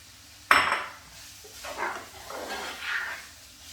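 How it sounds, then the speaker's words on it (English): Onions tipped into a pan of garlic and ginger paste for cumin chicken: a sudden loud hiss and clatter as they hit, then a few quieter stirring scrapes and sizzles. "the garlic and ginger paste has been cooking for about 30 seconds. I'm going to add onions"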